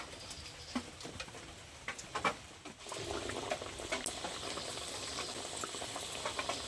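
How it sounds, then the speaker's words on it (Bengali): Nimki fries in hot oil with a close, bubbling sizzle, light pops and patter scattered over it. The bubbling grows denser after a brief pause partway through. "তেলটা ভালো গরম হয়ে গেছে এবার আমি বানিয়ে রাখা নিমকিগুলো তেলে দিয়ে দেবো"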